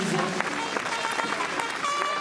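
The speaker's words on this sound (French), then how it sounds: "Alors encore vos applaudissements, s'il vous plaît, Montbrison." An audience in Montbrison applauds a visiting marching band and majorette troupe, a dense steady wash of clapping from many hands that lasts throughout, with an announcer's voice audible over it.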